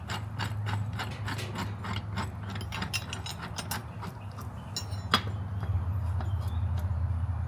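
Two 22-inch wrenches tightening nuts on bearings, one on each side, give a quick run of sharp metallic ratcheting clicks close by, over a steady low hum.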